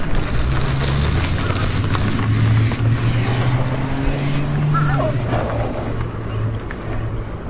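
A Himiway Cruiser fat-tire e-bike rides on throttle alone, giving a steady motor whine with a rising tonal hum, heavy wind rush and tire roar, loud and close throughout.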